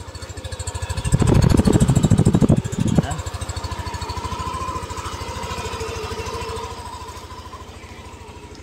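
A Yamaha Aerox scooter engine idles close by with a steady rapid low pulse, briefly revving louder early on before settling back to an even idle.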